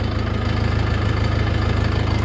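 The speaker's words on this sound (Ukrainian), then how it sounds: "двигун доволі добре, доволі ритмічно працює на низьких оборотах" A Forte RD-504 minitractor engine runs steadily at low revs, a loud, even, rhythmic thrum heard up close.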